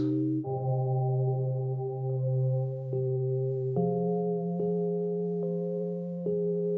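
Sustained synthesized tones shift through a series of held chords, each change clean and smooth, with a lingering, washy plate-reverb tail from the Soundtoys SuperPlate plugin; no voices.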